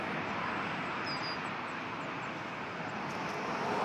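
An airplane lands on runway 23 at Toronto airport, a broad, steady jet roar heard from a distance, constant in level across the moment.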